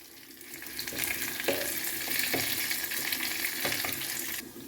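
Spice tempering of green chillies, curry leaves, garlic and asafoetida crackles in hot oil for mango and spinach dal, a close, steady sizzle with a few sharp pops and stirs.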